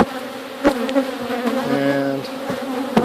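Honey bees buzz steadily and up close during a backyard inspection of a large multi-box hive, with a continuous droning hum and a few sharp knocks from handling the hive.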